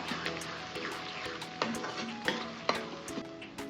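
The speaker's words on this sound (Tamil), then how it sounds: "தக்காளி நல்லா வதங்கட்டும்" Tomatoes sautéing and sizzling in a pan with salt, a steady close frying hiss broken by several sharp scrapes and taps of the spoon as they are stirred.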